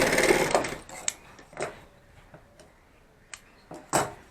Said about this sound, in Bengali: সেলাই করে দিলাম জাস্ট